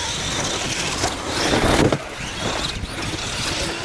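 RC monster trucks, including a Grave Digger, race on a track, their small electric motors giving a steady whining drone close by that swells briefly before settling.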